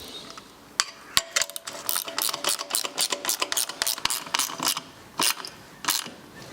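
Hand tools work on bolts fastening a swirl pot and copper cooling tubes on a TVR 3000 M with a Ford Essex V6, giving a close series of rapid metallic clicks, ratcheting and clinks in irregular bursts.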